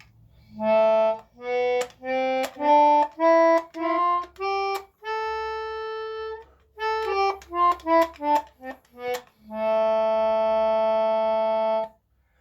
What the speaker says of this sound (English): we're going to use this wonderful little melodica